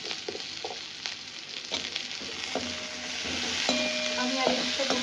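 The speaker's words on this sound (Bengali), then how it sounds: "কেটে রাখা সবজিগুলো একে এক করে দিয়ে দেবো, কারণ একটু আমি এগুলোকে ফ্রাই করবার চেষ্টা করবো" Chopped vegetables fry in a small amount of oil with a steady hiss and crackle, while a utensil stirs and scrapes against the pan at close range.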